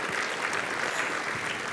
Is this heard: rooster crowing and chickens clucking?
no